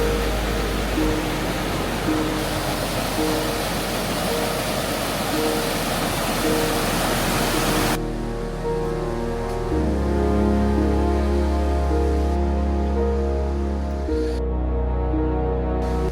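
Clear, cold river water rushes under an Ottoman bridge in Podgorica, Montenegro, a loud, steady broadband roar that fills the whole stretch with no voices.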